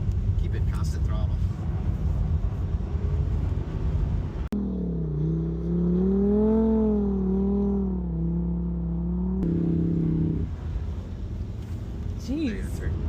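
A Lamborghini on a frozen lake drones under steady throttle; after a stretch of mixed noise the engine settles into a loud, close, wavering hum that rises and dips in pitch, then cuts back to rougher noise.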